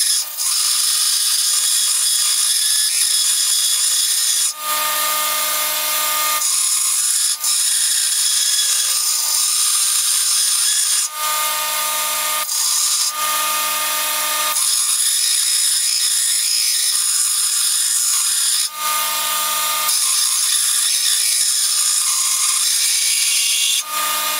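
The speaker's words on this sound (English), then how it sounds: "I'm going to bring it to this belt sander, or grinder sanders" A belt sander grinds the contours of a Damascus steel skinning knife: a loud, steady, whining abrasive roar that dips briefly each time the blade is lifted and then pressed back to the belt.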